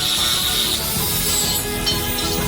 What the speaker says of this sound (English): We cut a profile pipe into the desired segments